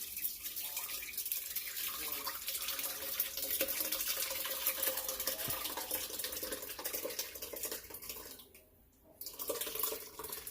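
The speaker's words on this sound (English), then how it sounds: "so now I'm gonna run it through the strainer." Red chile puree for menudo rojo pours through a strainer in a steady, close liquid splashing and trickling that dips briefly near the end.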